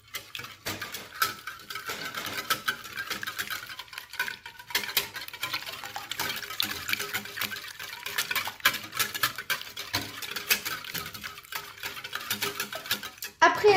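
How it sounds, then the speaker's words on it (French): Cake batter ingredients are stirred in a bowl, giving a fairly quiet, steady run of rhythmic scraping and light clinks of a utensil against the bowl, with a couple of louder knocks at the very end. "Et nous allons encore mélanger."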